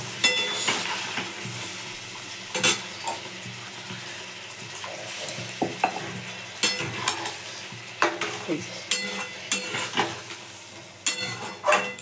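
Egg curry masala is stir-fried in a pan with a splash of water, a close sizzle broken by repeated sharp scrapes and clinks of a spoon against the pan.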